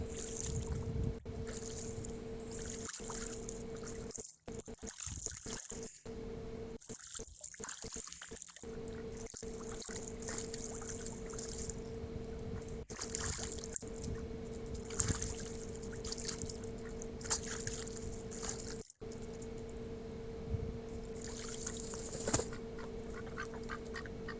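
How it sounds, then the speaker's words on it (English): Ducks moving through water, heard as faint splashing and trickling with soft paddling sounds and occasional quiet quacks, a low steady background throughout with brief dropouts. "Enjoy this short little video clip of some ducks in water."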